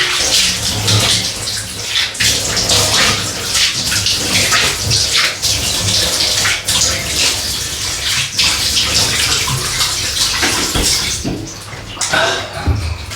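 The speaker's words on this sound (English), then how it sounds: "Down for the quick rinse" Water from a tap splashes and gurgles steadily and loudly at close range during a quick rinse after a safety-razor shave, continuing with little change throughout.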